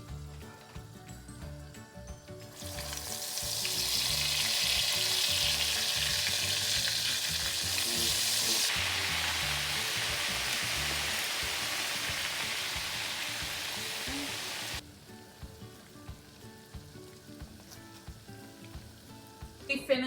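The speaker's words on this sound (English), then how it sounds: "we're just gonna lightly fry them just because I like a crispy pierogi" Pierogi frying lightly in a pan for crisping, a loud hissing sizzle swells in after a few seconds, holds steady, then cuts off abruptly, leaving quieter background clatter; no talking.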